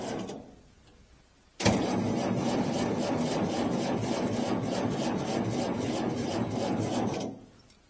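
Allis-Chalmers D17 diesel tractor with a weak battery cranking on a cold winter start: a steady, rhythmic starter churn that runs about six seconds without catching, then cuts out.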